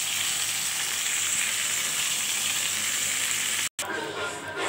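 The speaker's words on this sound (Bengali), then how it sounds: "এদিকে কি সুন্দর হয়েছে, মাছটা ভাজা হয়ে যাচ্ছে।" A boal fish head fries in a pan with a loud, dense, continuous sizzle close by, broken by a brief cut near the end before the hiss resumes slightly softer.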